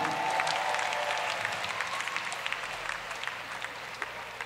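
Applause from a crowd at a live jazz festival concert, a dense wash of clapping that stays fairly steady and gradually softens, heard at a moderate distance with no talking on top.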